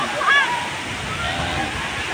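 Hinulugang Taktak waterfall in Antipolo pours down into the river, a steady broadband rush of falling water with a brief higher splash near the start.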